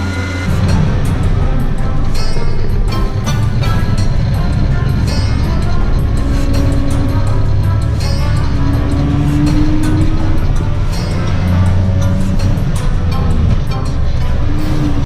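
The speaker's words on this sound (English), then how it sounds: "The Ape has a two-stroke single-cylinder engine with a displacement of 218 cc" A Piaggio Ape three-wheeler with a two-stroke single-cylinder 218 cc engine drives along. Its engine drones loud, close and steady throughout with no talking.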